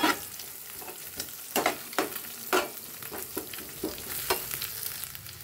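Boiled ash gourd bhaji frying in a pan, with a steady sizzle broken by repeated scraping stirs at an irregular rhythm, close and moderately loud with no voices.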